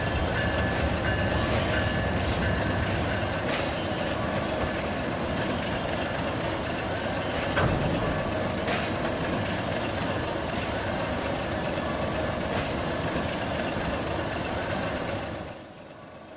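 The Parabat Express passenger rake is shunted at Kamalapur railway station. It gives a steady, close rumble of rolling coaches and an idling locomotive, with faint clanks and squeals, that fades at the very end.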